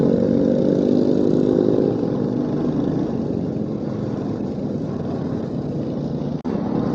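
Royal Enfield Hunter 350 motorcycle with an altered silencer, engine running steadily and loudly up close, a deep continuous exhaust rumble with a brief dip near the end and no talking.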